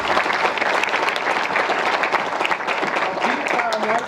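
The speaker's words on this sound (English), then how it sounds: "Let's give them a warm round of applause." An audience at a university Vice-Chancellor's awards ceremony claps steadily and densely, a loud continuous wash of applause with a voice faintly audible beneath it.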